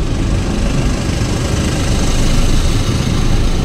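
A motorcycle engine drones steadily nearby, a low, even motor sound without pauses.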